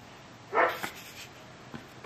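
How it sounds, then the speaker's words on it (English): A dog next door barks a few times at a distance, short muffled bursts separated by quiet, fairly faint against low room noise. "Barking dog next door."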